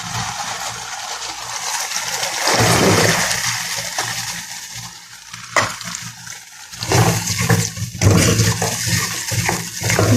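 Bean seeds tossed into a hot pan with spices and fish, giving a loud, continuous sizzle and hiss that swells and crackles in bursts as the mixture is stirred.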